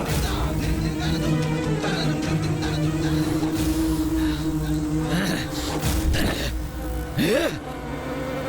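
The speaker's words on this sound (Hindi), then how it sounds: "फिर से ये अप्रिय भिनभिनाहट ध्वनि का श्रवण हुआ मुझे।" A thin, steady insect buzz drones through a dense layer of other sound, with a couple of brief swooping tones near the end.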